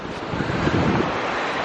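Ocean waves and wind at a beach, a loud, steady wash of surf with heavy wind rumbling over the microphone, no voices.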